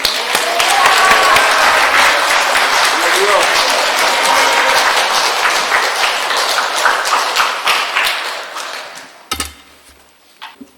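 A church congregation claps loudly and steadily in a dense, sustained burst of applause welcoming a pastor, thinning out and fading toward the end, followed by a few scattered claps.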